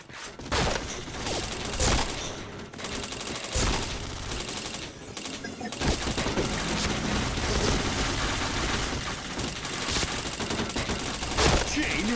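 Sustained gunfire fills a shooting video game match, continuous loud automatic bursts and rattling shots with brief pauses, while a voice occasionally speaks under the din.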